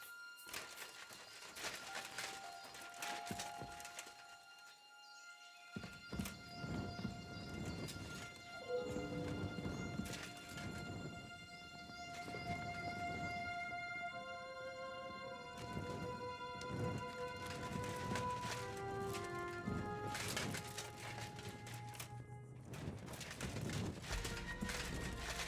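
Horse hooves clip-clop in the video game Kingdom Come: Deliverance II, a steady rhythm of strikes running under a layered musical score with no speech.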